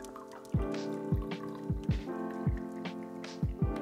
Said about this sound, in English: We're just gonna go 1/3 cranberry, and then you just top it off with the champagne.